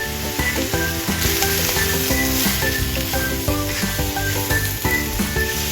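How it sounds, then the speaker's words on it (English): Steady, close sizzling of king oyster mushrooms stir-frying in a hot pan without water, continuous and even throughout, with a faint tonal hum behind it. "No need to add water when stir-frying king oyster mushrooms."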